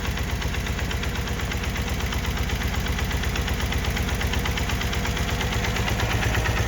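A BMW carbureted engine idles steadily after its carburetors are synced, a close, even, low throbbing rumble with a constant pulse and no voices.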